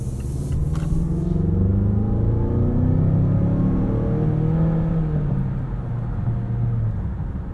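A 2022 Mazda CX-9 Signature's 2.5 turbo engine with six-speed automatic accelerating from inside the cabin, a loud steady rumble with rising, shifting engine tones as gears change, continuous and close with no talk.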